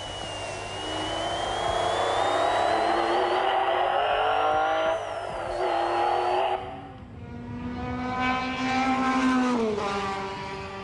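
Schnitzer BMW M3, number 25, racing through a lap at Spa-Francorchamps in the 1990 24-hour race, a steady loud engine wail with rising pitch through the gears and a lift before climbing again.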